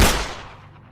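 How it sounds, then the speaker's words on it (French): A single sharp gunshot cracks loudly at the start, then its echo decays over most of a second, alone with no voices, heard near a roadside truck-stop relay. "Et alors que ça continue, tu vas entendre un coup de feu."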